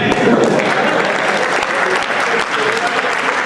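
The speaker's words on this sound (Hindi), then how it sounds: "और अगली कुर्सी पर फिर आपकी तालियां चाहता हूं।" Audience applause at a Hindi comic poetry gathering, a steady dense wash of clapping from a large crowd that holds throughout without a break, with faint voices mixed in.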